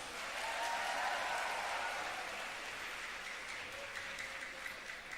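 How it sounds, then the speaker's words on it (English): A distant, soft round of applause from an audience at a centenary inauguration celebration, honoring the novices' dance; the dense clapping swells early, then gradually thins. "So let's give them another round of applause."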